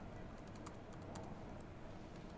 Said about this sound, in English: you really get a full typing experience